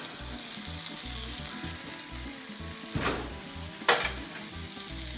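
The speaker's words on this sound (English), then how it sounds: "I can hear my kiełbasa is ready." Kiełbasa sausage sizzles and fries in a pan, with a steady crackle and two brief louder bursts of spitting fat, close and with no voices.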